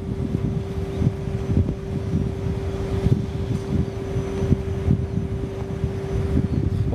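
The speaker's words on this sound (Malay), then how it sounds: "Sedap banget berangin dah sejuk lah." Wind blows outdoors at Jeram Mengaji Resort as a loud, continuous low rumble that buffets against the microphone, with a steady hum underneath and no talking.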